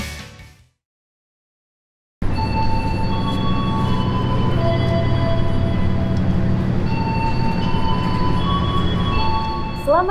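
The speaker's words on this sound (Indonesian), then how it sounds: "Selamat datang di Stasiun Pasar Senen, Jakarta Pusat." Busy ambience at Pasar Senen railway station in Jakarta: a steady loud rumble of trains with sustained tonal whines and a brief squeal near the end, following a short quiet gap at the start.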